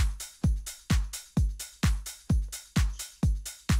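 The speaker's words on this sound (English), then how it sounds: "I just have a little drum loop made" Simple drum loop built in Ableton with closed hi-hat, clap and tambourine, sharp evenly spaced hits repeating in a steady rhythm, clear and alone.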